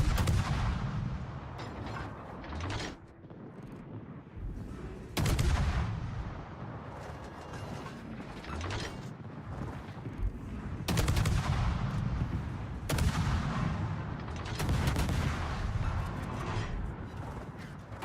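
Secondary battery guns on a warship in World of Warships fire in repeated loud booming volleys with rumbling decay, spaced every few seconds over a low mechanical hum, with no speech.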